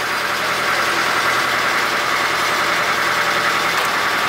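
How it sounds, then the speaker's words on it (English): A steady, droning boat engine runs continuously at a constant level while the boat backs up and turns around, with a broad rushing noise and no pauses or voices. "backing the boat up, turning it around"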